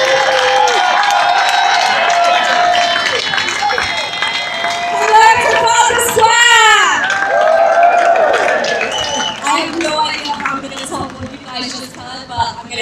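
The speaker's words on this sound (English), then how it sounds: "Give her a round of applause" A rally crowd on a London street applauds and cheers, scattered clapping and shouts blending with loud overlapping voices and chanting across the whole stretch.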